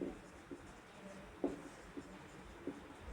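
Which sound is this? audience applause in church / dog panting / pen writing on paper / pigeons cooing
pen writing on paper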